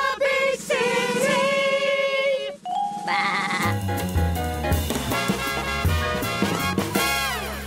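A sheep in a big city gives wavering, drawn-out bleats at the start, then loud music with a steady beat takes over.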